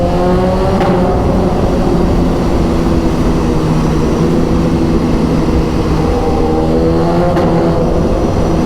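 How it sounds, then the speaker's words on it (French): A BMW S1000RR motorcycle engine roars loudly and steadily, with quick sharp interruptions in its tone as the quickshifter shifts gears up under hard acceleration. "le son que ça fait le shifter, c'est insane"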